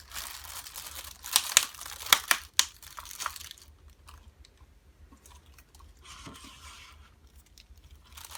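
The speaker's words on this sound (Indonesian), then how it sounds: "masing-masing gelas akan kita tutup dengan lembaran plastik" Thin plastic sheet crinkles sharply while being stretched over drinking glasses for a nail corrosion experiment, crisp crackles in the first few seconds and then softer rustling, close and alone.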